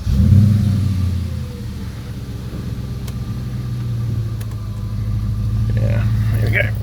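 An Audi RS4's engine rumbles steadily at close range, rising slightly in revs toward the end, while a person talks over it.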